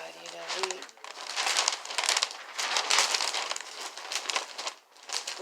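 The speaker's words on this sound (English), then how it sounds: "I'm going to be able to open up the bag" A plastic bag crinkles and rustles continuously as it is opened and handled up close, with dense crackling bursts filling several seconds.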